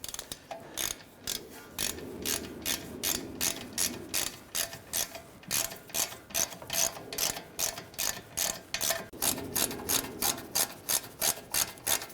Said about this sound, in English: Now when I tighten this down, we're going to tighten it down in a crisscross pattern.